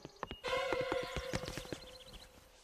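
Cartoon horse hooves clip-clopping in a quick rhythmic patter, with a whinnying neigh over the start, moderately close and alone without talk.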